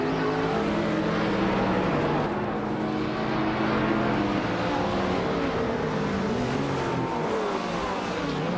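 Racing car engines in a video game at the Bikerniki Big Ring, a classic 1989 TVR Tuscan on pole among newer rivals, roar steadily with layered revving and shifting pitches as the pack launches, loud and continuous throughout.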